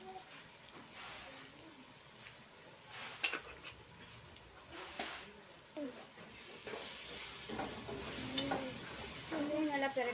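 Biryani masala frying in a pan for chicken biryani, stirred with a spoon: soft sizzling and hiss with scraping stir strokes, growing louder toward the end, and a voice speaking briefly.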